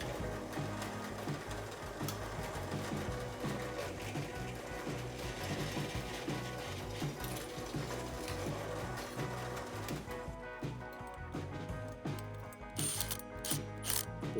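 Ratchet wrench tightening the bracket of a wood fired pizza oven chimney pipe, a steady fast clicking run that continues nearly nonstop at close range before slowing into a few separate clicks.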